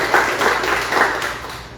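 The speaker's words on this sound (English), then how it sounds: "can everyone please join me in giving a big round of applause?" A city hall audience claps at a small business program announcement with the mayor of Providence, a short steady burst of fairly loud applause.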